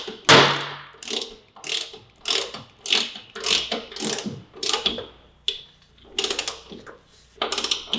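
Repeated ratcheting clicks from a torque wrench tightening the rear axle of a Kawasaki Ninja 400 race bike, about a dozen short close bursts in a steady rhythm with brief pauses between strokes.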